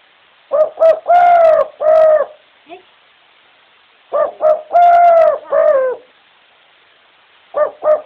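A person mimics a male bird's call in loud, nearby cooing phrases: two clusters of several hoarse, voiced notes, then a brief fragment at the end, with silent gaps between.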